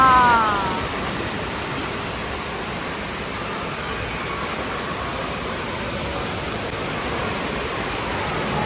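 Water pouring down steadily from a large tipping bucket, a loud continuous broadband rush with a brief swell at the start and an even roar throughout, no voices over it.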